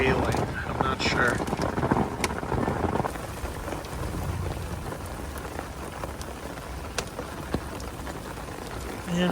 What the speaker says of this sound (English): It's definitely hailing now.